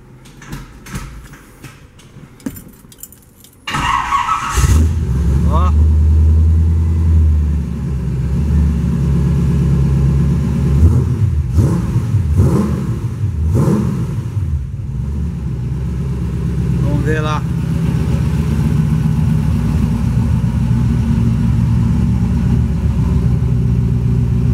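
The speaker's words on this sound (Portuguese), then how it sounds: "Deixa eu dar uma ligada no carro" Chevrolet Opala SS fitted with a Corvette 350 V8 on fuel injection cranks, fires up and settles into a deep, loud rumbling idle with several sharp throttle blips, close by, with someone talking early on.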